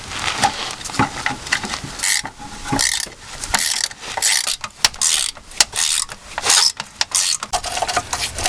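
A jack being raised under a Jeep Cherokee during a transmission mount replacement, giving a run of close, repeated ratcheting clicks and mechanical clunks with short pauses between strokes.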